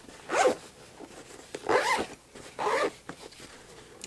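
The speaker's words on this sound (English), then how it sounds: "Zip it up." Zipper pulled closed on a handmade sewn fabric train case, three quick rasping zips in a row at close range, followed by a few soft handling clicks.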